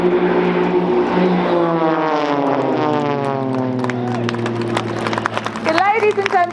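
Loud propeller-engine drone from the Blades aerobatic display team's planes closing in toward the crowd at Dunsfold Wings & Wheels 2014, with steady harmonic engine tones sweeping downward as they pass. Commentary and crowd noise continue over it.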